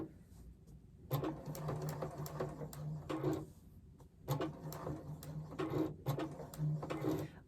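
Sewing machine running with a shortened stitch, appliquéing cream fabric beside white on a gnome forest mini quilt; several steady bursts of stitching separated by brief pauses, close and clear.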